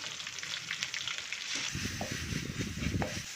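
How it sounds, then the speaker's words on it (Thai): Curry paste and shrimp paste stir-fried in hot oil with garlic, a busy crackling sizzle with scraping and stirring knocks from a spatula against the pan. "ผัดจนกะปิละลายแล้วก็ใส่เครื่องแกง"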